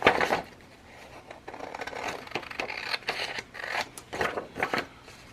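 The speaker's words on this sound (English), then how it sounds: "I'm going to take my scissors and I'm going to cut out the straight lines" Scissors cut along straight lines of paper for a glassine bag craft cover, a series of crisp snipping and crunching cuts in irregular bursts, close and clear with pauses between strokes.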